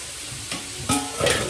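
Curry leaves and green chillies frying in a pan, a steady close sizzle with a few louder crackling bursts as they are stirred.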